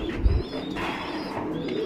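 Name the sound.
pigeons cooing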